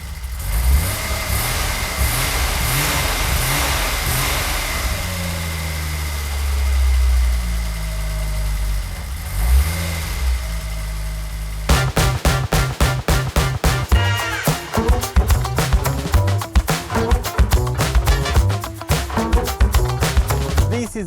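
A French Alpine GTA V6 Turbo engine idles with a steady low rumble, then breaks into a rapid series of sharp, close revs and blips that rise and fall in quick succession.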